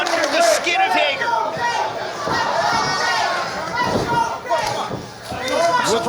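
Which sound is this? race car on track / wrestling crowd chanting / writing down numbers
wrestling crowd chanting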